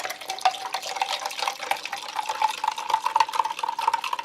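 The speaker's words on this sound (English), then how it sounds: "Mix in very well, it doesn't seem too granular." Fine pink strawberry drink powder being stirred into nearly a pint of water, giving a continuous swishing, sloshing churn with faint spoon taps that builds slightly toward the end, heard close with no voice.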